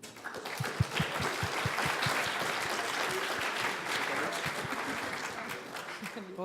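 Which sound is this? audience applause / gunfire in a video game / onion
audience applause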